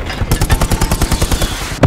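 Rapid machine-gun fire in the World War II shooter Hell Let Loose sounds as a loud, close, evenly spaced burst of about fifteen shots, ending in a heavier blast.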